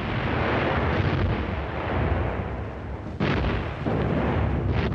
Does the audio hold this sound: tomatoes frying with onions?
no